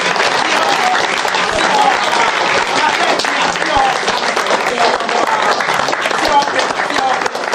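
Dense, loud audience applause fills a live youth dialogue event in Afrafranto, a continuous wash of many hands clapping at an even level throughout.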